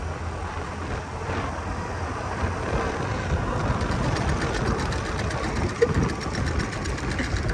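A scooter engine idles close by, a steady mechanical chug with a faint knocking rhythm running throughout, no speech over it.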